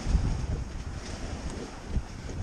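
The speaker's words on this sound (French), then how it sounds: "je voyais que le vent forcissait et que ça s'établissait" Strong wind buffets the microphone aboard a Dufour 3800 sailboat, a constant low rumbling roar with gusty swells and faint rushing water beneath, close and loud, with no talking.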